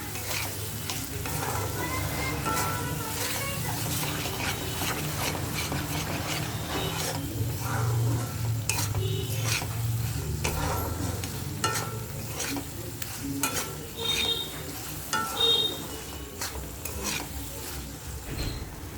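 Shrimp paste being stirred into a spice masala in a pan, giving steady close sizzling with repeated scraping strokes of the spoon throughout, no voices.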